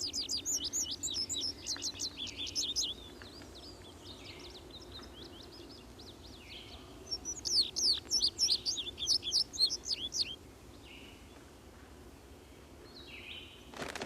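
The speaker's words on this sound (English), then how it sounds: "the song of the bunting can be heard in meadows throughout the day" A bunting sings in a meadow, delivering two bright, rapid trilling phrases separated by a pause, clear and fairly close over a quiet background.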